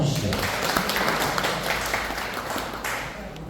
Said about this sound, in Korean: 다시 한번 박수 한번 해주시죠.